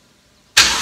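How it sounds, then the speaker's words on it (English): A BMW N54 engine is started with the starter after a half-second of near silence, then catches abruptly into a loud, sustained roar close by. "I'm going to apply the ignition to the starter."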